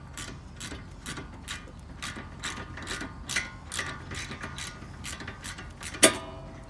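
A ratchet loosens a strut bolt on a 2011-2014 V6 Dodge Charger, with a steady run of quick, close metallic clicks and a sharper clack near the end.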